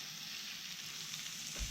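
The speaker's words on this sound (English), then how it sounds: "I'm going to go ahead and put my eggs in there" Six eggs sizzle and fry on a cooking disc over medium heat, a steady, close hiss of crackling oil with no one talking.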